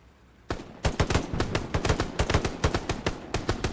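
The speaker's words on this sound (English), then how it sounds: "Both these guys empty their mags, both with the pistol." Pistol gunfire in Hell Let Loose, a WWII shooter, with two players emptying their magazines: a rapid, steady string of loud, close shots, several per second, continuing for about three seconds after a brief quiet start.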